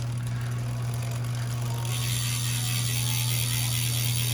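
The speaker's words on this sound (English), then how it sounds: "the 18 tooth ratchet, so they're not as loud or pronounced as the SL7" Freehub ratchet of a Specialized S-Works Tarmac SL6 road bike with an 18-tooth ratchet, clicking in a fast steady buzz as the wheel spins, close and continuous with a low mechanical hum underneath.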